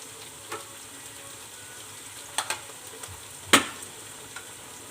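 Onions frying in a pan with ginger garlic paste for a cauliflower and potato curry give a faint, steady sizzle with a few sharp pops and stirring clicks scattered across the stretch.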